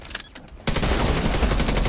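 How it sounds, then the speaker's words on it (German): A loud, sudden shotgun blast in the video game The Division 2 cuts in after a quiet moment, followed by sustained booming and crackling gunfire that stays loud to the end. "Der Shotgun-Schuss hat dem nicht so gefallen."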